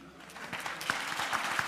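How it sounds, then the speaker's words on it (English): Faint, scattered clapping from a small audience after a financial inclusion quiz, a few distinct claps rising gradually without becoming a full ovation. "So a big round of applause to our participants"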